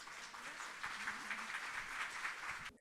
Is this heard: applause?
yes